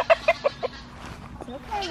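Several chickens give quick, close clucks in a short burst around electrified poultry netting, followed by softer background sound.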